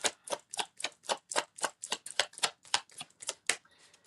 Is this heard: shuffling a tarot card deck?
yes